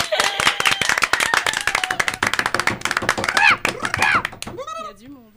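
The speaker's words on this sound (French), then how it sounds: "Nous voulons les applaudissements du public, s'il vous plaît." A quiz show audience claps in quick, sharp bursts that build and thin out, with voices and a sung or drawn-out vocal tone rising over the claps near the end.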